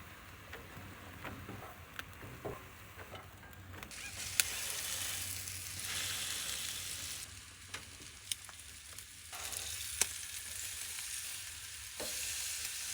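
Ham sizzling and frying in a pan at a campsite, a steady crackling hiss with occasional sharp pops and stirring clicks, fairly close and without talk.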